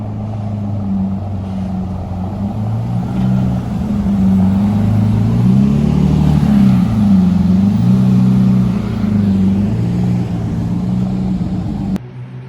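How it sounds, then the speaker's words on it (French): Three Lamborghinis, one V12 and two V10s, arrive at a car club meet, their deep engine rumble swelling and dipping steadily and loud as they roll past close by. "Là, vous allez voir arriver 3 Lamborghini."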